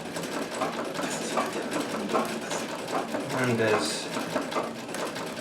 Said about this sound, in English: I'm using my 1959 Brother Flairmatic here, which is a class 15 oscillating hook machine